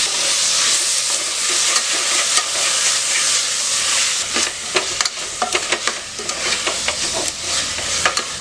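Tomatoes, coriander and mint sizzle and hiss loudly in a hot pan, with intermittent scraping and stirring clatters growing more frequent toward the end.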